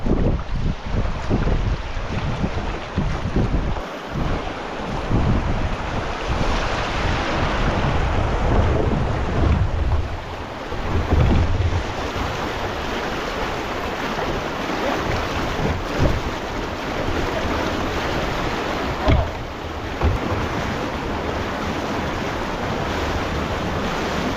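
River whitewater rapids churn and splash loudly around a canoe running down the middle of the river, a continuous rushing roar with wind buffeting the microphone.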